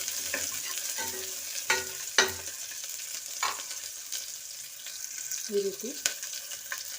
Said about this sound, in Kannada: ಹಾಗೆ ಕಟ್ ಮಾಡಿರೋಂಥ ಈರುಳ್ಳಿನ ಸೇರಿಸ್ಕೊತಾ ಇದ್ದೀನಿ. ಇದು ಚೆನ್ನಾಗಿ ಫ್ರೈ ಆಗಬೇಕು.